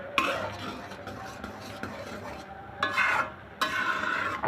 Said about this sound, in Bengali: ঠিক এভাবে নেড়ে চেড়ে খিরসাটা আপনারা তৈরি করে নেবেন